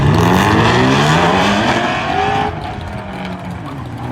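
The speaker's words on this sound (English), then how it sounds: "a little clip of a Ford Fiesta ST last night at the drag strip, taken out and winning against an S197 5-liter Mustang" A Ford Fiesta ST and an S197 5-liter Mustang drag racing at a drag strip: loud, close engine roar with climbing, overlapping revs that drop off partway through.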